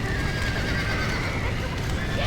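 A horse neighs and whinnies in the Red Dead Redemption video game on Xbox One, with hoof clip-clop underneath and a dense, steady bed of game sound throughout.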